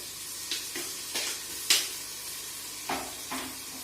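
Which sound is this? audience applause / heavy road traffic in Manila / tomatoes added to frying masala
tomatoes added to frying masala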